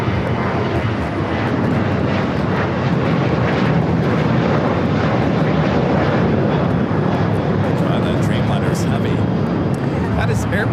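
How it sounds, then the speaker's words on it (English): Air Premia's Boeing 787-9 Dreamliner takes off for Seoul from Los Angeles, its jet engines producing a loud, unbroken roar that fills the whole span, with faint higher chirps surfacing near the end. "That is Air Premia 102 taking off to Seoul on the 787-9 Dreamliner."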